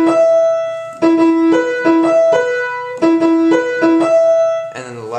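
A guitar plays a longer stretch of the intro riff of a song, crisp picked notes in a repeating pattern with ringing sustain, close and loud, then a brief string bend at the very end.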